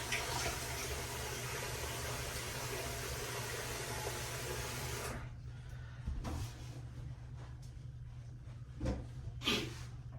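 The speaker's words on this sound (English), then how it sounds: "Let's rinse off the face." Water runs steadily from a tap for about five seconds while a face is rinsed during a shave, then stops, followed by a few brief splashes of water scooped against the face, close and with no talk.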